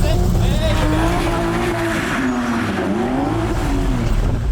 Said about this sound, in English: I'm going to do a few revs.